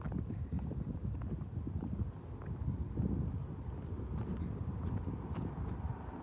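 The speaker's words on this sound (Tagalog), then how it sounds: "May hangin naman ng konti." Wind buffets the microphone in a low, continuous rumble outdoors, with faint footsteps and scattered background noise, no one speaking nearby.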